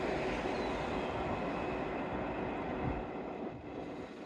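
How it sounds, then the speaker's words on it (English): A train runs along the waterside railway at Teignmouth, a steady loud rumble of wheels and carriages rolling past close by, fading slightly toward the end. "Happy train!"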